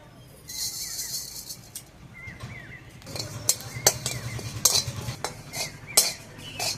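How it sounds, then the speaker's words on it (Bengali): Whole cumin seeds frying dry in a pan over a stove, with a utensil stirring and scraping in uneven bursts, metallic clinks standing out against a low steady hum and faint sizzle. "প্রথমে হচ্ছে উনুনটা ধরিয়ে গোটা জিরেটা ভেজে নিই"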